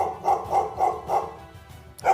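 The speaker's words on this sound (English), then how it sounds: "summoning this very annoying dog to hopefully save, Ziba." A summoned dog in a wolf-fight video game yaps in a steady series of about five quick, evenly spaced barks at moderate distance, with no talk over it.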